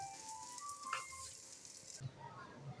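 A paratha fries in oil in a covered pan, giving a soft steady sizzle that cuts off abruptly partway through, leaving faint low rattling and background noise.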